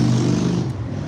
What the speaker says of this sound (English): sorry about the traffic